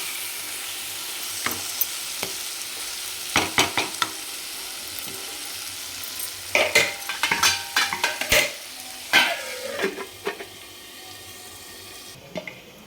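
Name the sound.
soaked peas frying in spiced oil, being stirred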